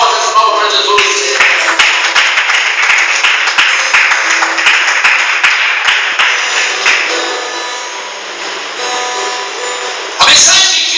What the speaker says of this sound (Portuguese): Dê forte as palmas para Jesus.